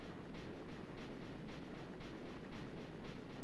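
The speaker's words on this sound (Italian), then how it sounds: "Eccolo il nostro treno lì, via." A train in the Zelda: Spirit Tracks video game runs steadily, a low rumble with a regular clickety-clack rhythm that holds at an even level throughout.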